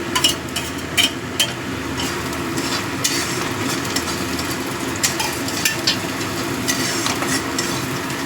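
Onions and chopped green chillies fry in a pan with a steady broadband sizzle, with occasional stirring scrapes and clicks and no talking.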